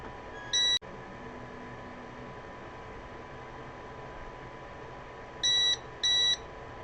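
A Creality LD-002R resin 3D printer gives three short high-pitched beeps, one early and two close together near the end, over a steady quiet background hum, with no talk.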